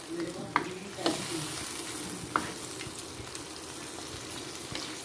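Chicken karahi with tomatoes sizzles over high heat in a pan, with occasional scraping clicks as a spoon stirs it steadily; a soft, continuous frying hiss sits close with a few sharper taps.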